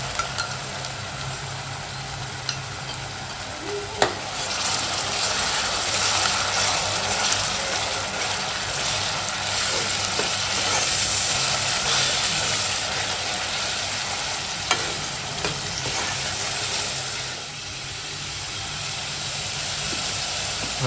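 A paste of garlic, green chili and coriander frying and being stirred in a pan: a loud, steady hissing sizzle with occasional clinks and scrapes of the spoon, continuous throughout and without talking.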